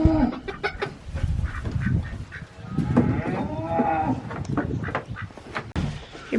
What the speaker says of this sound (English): You're probably gonna hear Mama Cow bellowing because her babies are in the barn